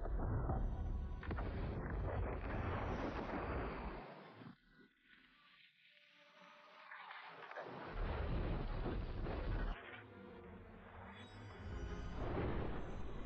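Thunder effect in a kung fu fantasy drama, heavy rumbling crashes with rain-like hiss, loud at first, fading into a low quiet stretch, then a sharp new crack and rolling roar, no speech.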